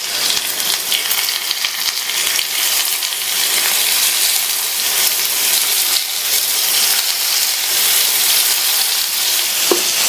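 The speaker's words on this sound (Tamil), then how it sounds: "எண்ணெய் சூடானதும் ஸ்டவ்வோட தீயை குறைச்சிட்டு நம்ம ரெடி பண்ணி வச்ச மிக்சிங்க ஒவ்வொரு குழியிலையும் கொஞ்சம் கொஞ்சமா" Snack batter spooned into the cavities of a pan of hot oil on a low stove flame, sizzling and crackling loudly and continuously throughout, with no voices.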